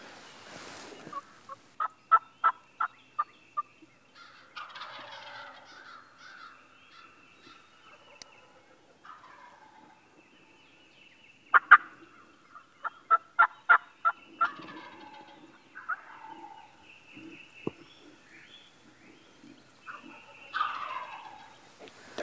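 Several wild turkeys gobble in repeated rattling bursts, about 50 to 60 yards off, fairly distant and quiet against an otherwise still outdoor background.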